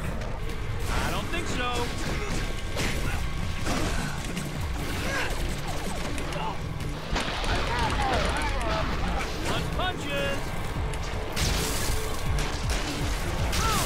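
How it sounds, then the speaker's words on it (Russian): Glass smashes and crashes repeatedly amid constant loud game action and fighting effects in Spider-Man: Shattered Dimensions, with a player talking over it. "Стекло ломается."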